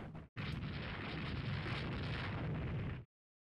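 Naval shell explosions from 6-inch shells in the game Rule the Waves 3 sound as a short burst, then a loud, sustained roaring blast lasting nearly three seconds before cutting off abruptly.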